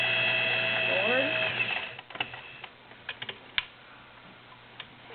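A vintage Singer 401A Slant-o-Matic sewing machine runs forward in a steady mechanical whir for about two seconds, then slows into scattered clicks and taps. It is close and moderately loud.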